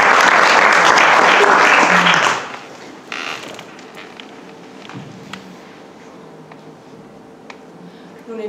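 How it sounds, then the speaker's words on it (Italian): Audience applause in a small theatre, a dense burst of clapping for about two seconds that stops abruptly, leaving quiet room tone with faint creaks and footsteps. "Un applauso"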